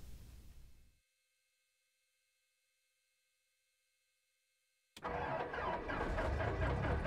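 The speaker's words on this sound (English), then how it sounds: "I just love how it sounds whenever you start the engine up" Aircraft engines start up in the X-Plane 11 flight simulator, a sudden loud, dense roar that bursts in after several seconds of near silence and holds steady to the end.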